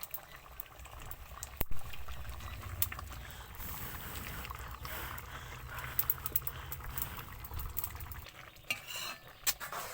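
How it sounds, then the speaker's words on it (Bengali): Masoor dal bubbles and simmers in a pot, a soft continuous boiling texture with occasional stirring clinks and metallic knocks from a utensil, fairly quiet overall. "দেখো ডালটা সিদ্ধ হয়ে গেছে।"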